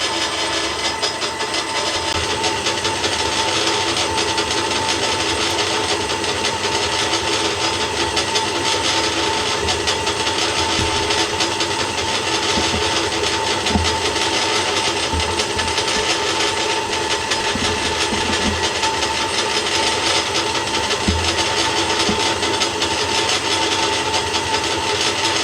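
A Boxford metalworking lathe running at its slower speed, a steady whirring mechanical drone with a faint rubbing rattle that holds evenly throughout with no talk.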